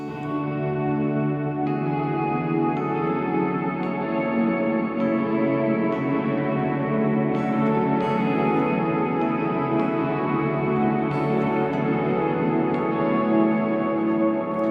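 Electric guitar played in an ambient worship style through compression, two delays and a reverb with a long decay of about 12 seconds, sustained shimmering notes washing together into a steady, dense wash with no voices.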